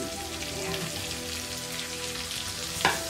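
Onion dropped into hot oil with browned ginger and garlic, frying in a steady dense sizzle from close by, with a brief louder crackle near the end.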